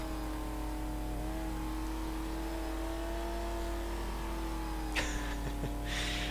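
An off-road truck engine in the iRacing sim at Tsukuba hums at a steady mid pitch and holds its revs, then shifts abruptly near the end with a short burst of noise.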